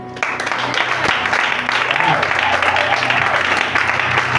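A church congregation breaks into loud, sustained applause and clapping to acclaim the Lord, a dense wash of hands with some voices mixed in beneath.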